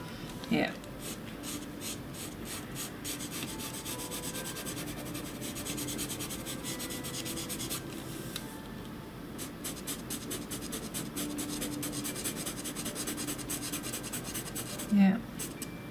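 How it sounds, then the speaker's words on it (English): A Derwent pastel pencil rasps across paper while drawing, making continuous dry scratchy strokes with a rhythmic back-and-forth pattern. The sound is close and steady, with a couple of brief knocks. "I love the sound of the pencil on the paper."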